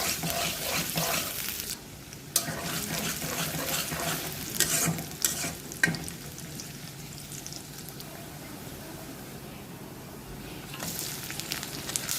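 Onions frying in oil in a home kitchen pan, with a steady close sizzle, occasional stirring scrapes and a few louder clatters.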